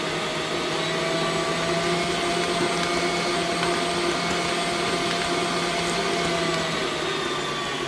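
An electric mixer beating shortbread cookie dough with cornstarch on a higher speed, giving a steady, even motor whine that runs unbroken throughout, with no voices.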